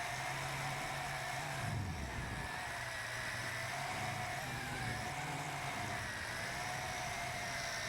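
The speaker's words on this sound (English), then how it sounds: "Turning the quadcopter around and bringing it in for a landing." A Sky Vampire altitude-hold quadcopter drone hovers and turns to land, its motors giving off a steady whirring hum with a wavering high whine that dips and rises as the throttle changes.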